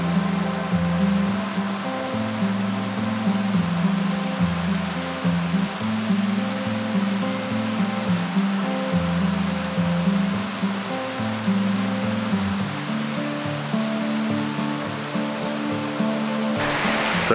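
A waterfall in Zion National Park in wet autumn conditions gives a loud, unbroken rushing roar that stays steady throughout, with no voices.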